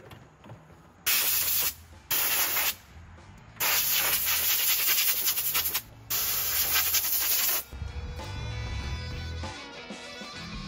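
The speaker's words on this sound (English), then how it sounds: "I'm gonna go ahead and pull out the air filter and I'm gonna blow that thing out" Compressed air blasts dust out of the air filter of a Bobcat E35 excavator in several loud, hissing bursts, with a quieter rumble at the end.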